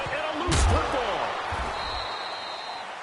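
A single hard tackle hit lands with a sharp thud in an EA Sports NFL video game, heard once over a commentator's voice.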